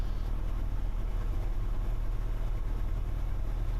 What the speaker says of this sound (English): Yep, engine's still running.